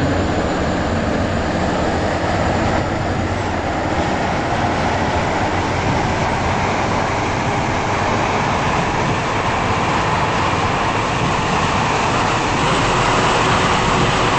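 A Roblox SCR Airlink train with six coaches rumbles along continuously at a steady, loud level, a smooth mechanical drone with no pauses or voices.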